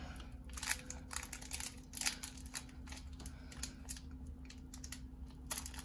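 Crinkly foil wrapper of a Pokémon Shining Fates card pack being worked open by hand, with irregular close crackles and rustles over a low steady hum, and no talking.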